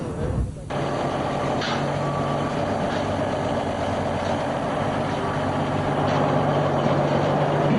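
Trucks hauling Formula One cars and equipment in North America, a steady low engine rumble with faint repeating beeps from a reversing vehicle, close and continuous throughout.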